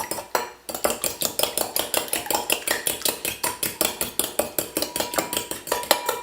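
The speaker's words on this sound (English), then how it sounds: "We're going to mix them up with our fork here." Eggs beaten with a fork in a bowl, the tines clicking against the bowl in a fast, steady rhythm of sharp repeated taps, close and alone.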